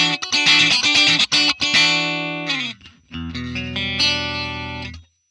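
A clean electric guitar through AmpliTube 5 CS with a compressor, giving even dynamics, plays quick picked notes and chords, then lets a low chord ring out before fading.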